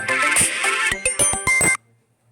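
A phone rings with a bright electronic melody of short, stepped tones, loud and close, then cuts off abruptly into silence.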